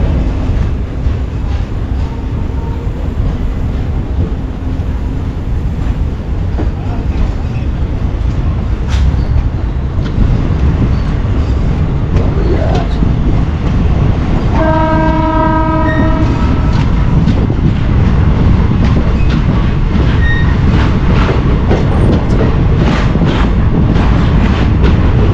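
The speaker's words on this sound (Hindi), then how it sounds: "हमारी ट्रेन का सिग्नल हो चुका है, चलते हैं ट्रेन के अंदर, वरना ट्रेन हमारी छूट जाएगी।" An express train between Bilaspur and Rewa rumbles steadily from inside the carriage, loud and continuous, with the train horn sounding briefly partway through.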